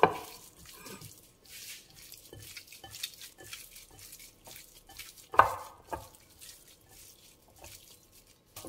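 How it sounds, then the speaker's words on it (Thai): Hands mix and knead about 280 grams of pork belly with seasoning powder and fish sauce, producing faint, wet, squelching and slapping sounds in an irregular rhythm at close range, with no talking. "จัดการคลุกเคล้าขยำให้เข้ากันค่ะ"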